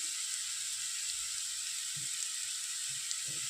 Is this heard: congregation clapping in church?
no